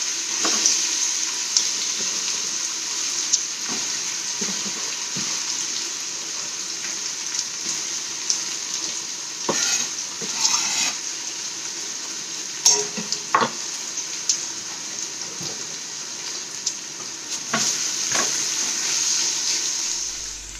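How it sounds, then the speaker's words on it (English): Sliced onions and garlic frying in about half a cup of cooking oil for a spinach and chicken curry, a continuous bright sizzle broken by occasional stirring scrapes and clinks. "Now we're going to cook the onions and garlic until they become a little bit golden"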